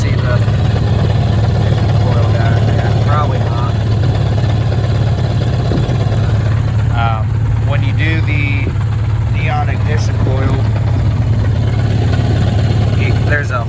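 A 1978 Honda GL1000 motorcycle engine idles steadily nearby with a constant low hum, while people talk over it throughout.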